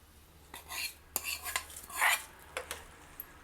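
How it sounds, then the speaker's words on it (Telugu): Tempering being stirred into tamarind dal in a pot, with a few brief clinks and scrapes of a spoon against metal over a quiet background, close and fairly soft. "తాలింపు కూడా ఇందులో వేసి కలిపేయాలి"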